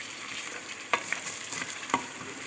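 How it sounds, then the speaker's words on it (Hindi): Chicken pieces fry in a pan for biryani, a low quiet sizzle broken by two or three sharp scrapes of a spoon stirring against the pan. "इसका कलर चेंज हो जाए, इसे भून लो।"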